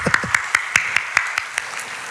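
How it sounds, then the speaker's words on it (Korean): A church congregation claps together in a steady unison rhythm, about nine even beats in two seconds, close and fairly loud, with no talking over it. "박수."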